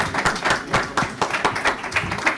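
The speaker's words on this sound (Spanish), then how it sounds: "Un aplauso." An audience at an academic session for medical residents claps for a doctor, a short burst of steady, moderately loud applause heard close by, with no talking over it.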